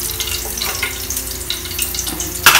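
Onion and garlic frying in hot oil, a loud dense crackling sizzle throughout with occasional stirring scrapes and a brief burst at the end, no voices.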